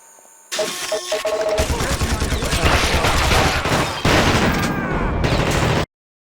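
Gunfire in the video game The Thing as a teammate is accidentally shot, a sustained loud fusillade of rapid automatic shots lasting several seconds before cutting off abruptly, with a faint voice at the start.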